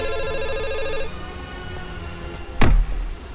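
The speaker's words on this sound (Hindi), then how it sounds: "फोन बज रहा" A telephone rings in a Hindi comedy scene, a repeating electronic ring that stops after about a second, followed by quieter background sound and a sudden loud thud.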